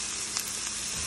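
Curry leaves with mustard seeds hit hot oil and crackle in a loud, dense sizzle that holds steady throughout, close up with no talking.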